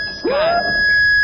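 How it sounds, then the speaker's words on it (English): A loud, close electronic alarm tone sweeps upward once over a steady high-pitched whine. "Oh, no. That's the alarm going off."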